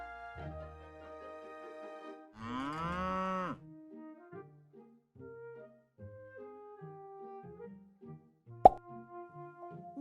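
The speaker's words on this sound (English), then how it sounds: "They began to toot and moo and cuckoo." Cartoonish animal noises including a cow mooing, with toots and short tonal calls in a playful sequence, plus a sharp pop near the end; no talking.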